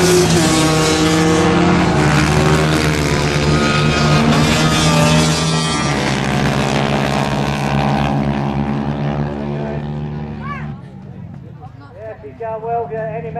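Loud buzzing engines of quads and three-wheelers racing on a dirt track, a close pack of revving motors whose pitch rises and falls as they pass, fading toward the end, with a commentator talking over them.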